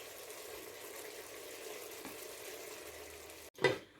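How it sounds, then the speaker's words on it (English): Lamb simmering and sizzling in a pan for a coconut curry, a soft steady frying hiss that runs on quietly, then a brief louder clatter near the end. "after about 10 minutes of the lamb simmering, the lamb is smelling good"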